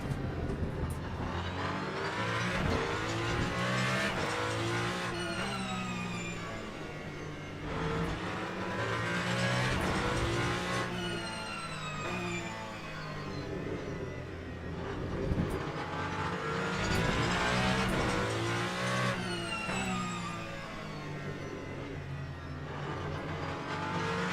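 Hypercar racing engines at the Fuji circuit in the sim game Le Mans Ultimate, loud sustained engine roar with repeated rising revs and gear shifts as cars pass, occasional tire squeal, continuous throughout.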